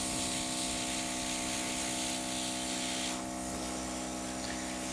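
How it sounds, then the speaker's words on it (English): An airbrush sprays white paint over a stencil on a fingernail, giving a steady, close, soft hiss that runs throughout and eases slightly near the end. "I'm going to spray over my stencil"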